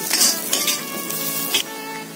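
Grated coconut stir-fried with onion, garlic and ginger in a pan, a spoon scraping and clinking against the metal over a soft sizzle, close and busy with a few sharper knocks.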